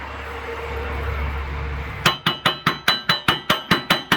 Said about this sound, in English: And also get your baby sledge or hammer.